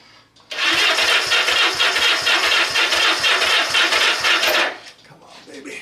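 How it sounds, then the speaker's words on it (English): A Honda Benly motorcycle engine cranks over on a weak battery with a fast, rhythmic chug that starts abruptly, runs loud and steady for about four seconds, then cuts off. "If we got enough battery to crank her."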